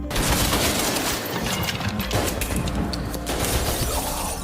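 Dense, continuous bursts of video game gunfire crackle nonstop, a loud rapid barrage of shots with sharp cracks layered over a rumbling low end.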